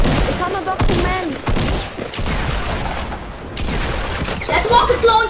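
Rapid explosive blasts and gunfire from a rocket launcher in the video game Fortnite, a loud, dense barrage of repeated bursts over about five seconds, with voices talking through it.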